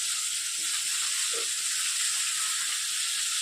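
Small khaira fish fry in a pan with a constant bright sizzle, steady and close, with no talking.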